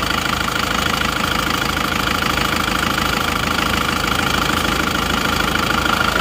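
Warm Isuzu Panther diesel engine idling at operating temperature after liner work, a steady, even knocking rumble with a regular mechanical clatter, close and loud throughout.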